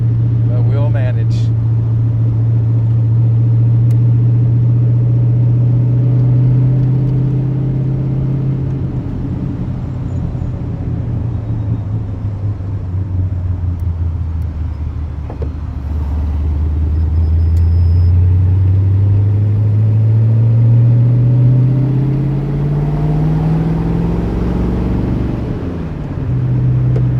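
A car driving through city traffic in San Antonio, a close, steady engine drone and road rumble that rises and falls as it speeds up and slows down, with a voice talking over it.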